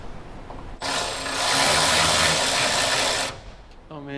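A power driver whirs steadily for a few seconds, loud and close, removing 4mm Allen bolts on a salvage Ferrari 430 Scuderia, with brief speech before and after.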